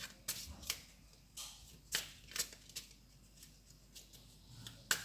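A tarot card deck being shuffled by hand at close range, soft papery riffles and taps repeating irregularly in a quiet room, with no voice over them.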